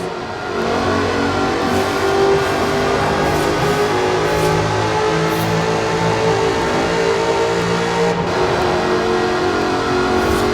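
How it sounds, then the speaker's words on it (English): Supercharged 5-litre V8 in an aluminium-bodied sports car, driven in Forza Horizon 4, holding a loud, steady engine roar that barely varies across the stretch, with no voices over it. "Powered by a 5-litre V8 supercharged engine, with a fully aluminium body, it's blisteringly fast"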